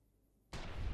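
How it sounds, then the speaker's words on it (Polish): A single loud gunshot in Fallout: New Vegas bursts in halfway through after near silence, a sharp broadband blast that rings on to the end. "Piękny strzał, prosto w łeb."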